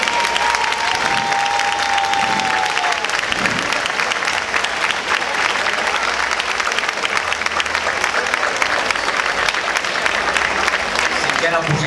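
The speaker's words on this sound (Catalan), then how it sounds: "Un fortíssim aplaudiment!" Loud, sustained crowd applause at an award ceremony for decorated streets during the Festa Major de Sants, with cheering voices rising briefly over the clapping near the start.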